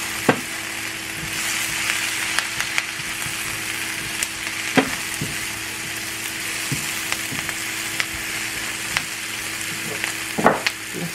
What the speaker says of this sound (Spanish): Ya la cebolla se guisó, le voy a poner los hongos o los champiñones